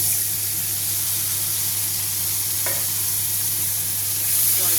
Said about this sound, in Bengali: এবার এতে দিয়ে দেবো সামান্য একটু জল।